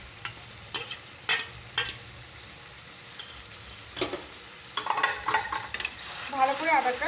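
Garlic sizzles in a pan for mutton curry with a steady hiss, punctuated by sharp spoon-on-pan knocks and busier scraping stirs toward the end.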